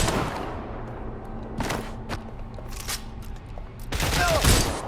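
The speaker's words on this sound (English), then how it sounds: "I'm taking fire!" Gunfire in the video game Watch Dogs: several bursts of shots with heavy thuds between them, loud and close, ending in a dense volley.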